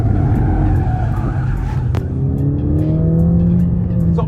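A Mercedes-AMG A 45 S 4MATIC+ slides sideways in a drift, its tires skidding and squealing loudly over the strained roar of the engine, heard close and continuous.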